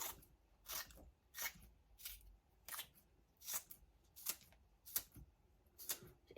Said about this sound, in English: I use my scissors and I just chop